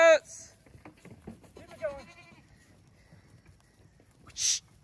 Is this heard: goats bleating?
yes